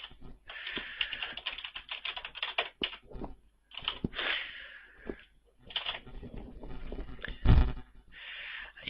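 Computer keyboard typing an email address during an online sign-up, bursts of quick close key clicks separated by short pauses, with one sharper louder tap near the end.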